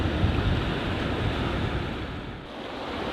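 A storm surf sound effect of waves crashing, made up of a loud, dense roar of churning water and wind that eases slightly toward the end, with no voices.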